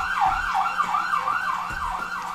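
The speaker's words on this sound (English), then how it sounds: "Wow, a siren." A wailing emergency siren rises and falls in a steady repeating cycle, loud and fairly close, with faint traffic rumble underneath.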